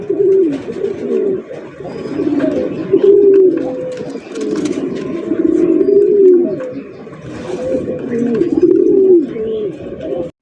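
Pigeons at a pigeon farm coo continuously in overlapping low, throaty rolls, loud and close, with a few faint chirps behind them and no clear speech.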